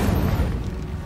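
An Incendio fire spell cast in Hogwarts Legacy, a deep booming whoosh of flame that swells at once and then rolls on as a low rumble, loud and heard alone.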